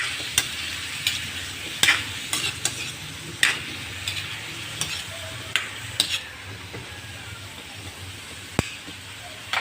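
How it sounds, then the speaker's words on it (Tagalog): String beans and squash are stirred and sautéed in a pan for adobong kalabasa at sitaw, giving a continuous sizzle broken by repeated sharp scrapes and taps of the utensil against the pan. "Ngayon ilalagay ko na ang sitaw at kalabasa guys. Yan guys, mix lang."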